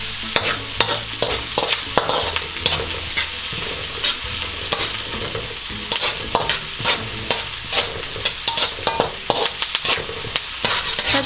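Garlic and onion stirred in a hot pan while cooking chicken curry, a bright continuous sizzle broken by frequent quick scrapes and clinks of a spatula, close and loud with no voices.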